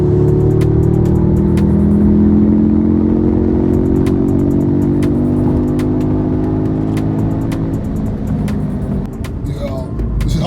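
A stage 1 tuned car with Temu parts roars as it accelerates, its loud engine note climbing steadily with sharp clattering pops throughout before easing off near the end.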